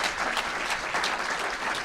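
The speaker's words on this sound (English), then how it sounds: "Let's give him a round of applause." Steady audience applause fills the room at a school equity meeting, dense continuous handclapping with no voices standing out.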